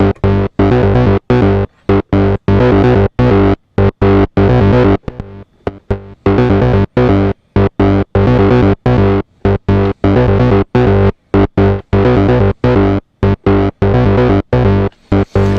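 A Novation Bass Station II synthesizer plays a loud, distorted acid bass sequence with longer amp decay, its choppy notes pulsing in a fast steady pattern with brief gaps, with no talk over it.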